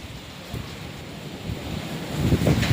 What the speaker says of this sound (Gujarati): ધીમી ધારે ભર ઉનાળે મિની વાવાઝોડું